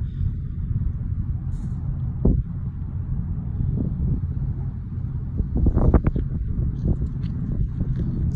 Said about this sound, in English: Sorry if it's a little windy.